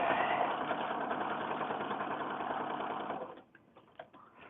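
A sewing machine stitches quilt swaps in a steady, rapid mechanical whir for about three seconds, then stops, leaving a few soft clicks and handling taps.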